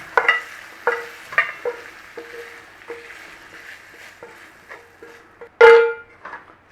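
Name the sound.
sausage meat frying in a pan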